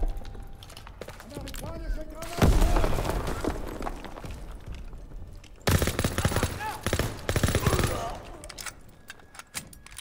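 Grenade blast and bursts of gunfire in Call of Duty WWII, a heavy boom followed by dense rattling fire in two loud stretches, with a voice talking over the game.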